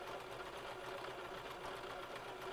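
A sewing machine running steadily at speed, a constant fast mechanical whir and rattle, close and quiet.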